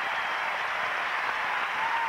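Crowd applause at a 1993 Wisconsin at Iowa college basketball game: a steady, dense wash of clapping that holds evenly throughout, with no voices standing out.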